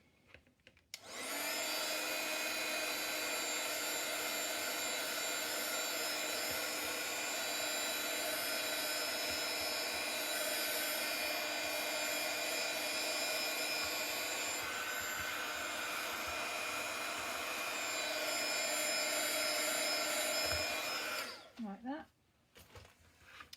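A hair dryer blows steadily for about twenty seconds, drying paint on a bee-themed craft arch. The loud continuous whir starts abruptly, holds even, then cuts off, with a brief spoken remark near the end.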